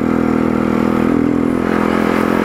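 A motorcycle engine drones steadily under heavy load climbing uphill on a mountain road, a loud, continuous close-up rumble with slight clattering.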